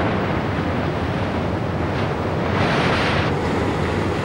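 White water rapids on the Kunene River, a loud continuous rushing roar that swells slightly midway, heavily mixed with wind buffeting.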